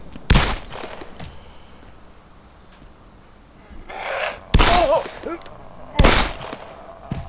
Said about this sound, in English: This is a loud gun.